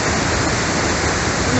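Loud, steady roar of the Nocedo waterfall on the Faro River, broadband rushing water filling the whole clip without pause.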